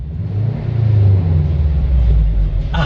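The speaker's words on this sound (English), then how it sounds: "Oh, there's the turbo. Yeah. With a blow valve or intake, it sounds pretty good." A turbocharged Subaru engine rumbles low and steady, building slightly as it revs, with a brief burst of higher blow-off valve noise right at the end.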